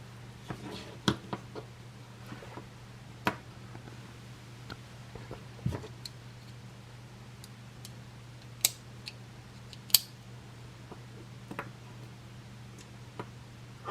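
Leatherman Squirt PS4 and Micra keychain multitools being opened, giving small faint metallic clicks and ticks spread irregularly over a low steady hum, with no talk.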